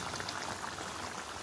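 Water added to a pan of mustard paste for Bengali shorsha bhola fish, a steady wet hiss and gurgle of liquid running in throughout, fairly loud and close with no talk.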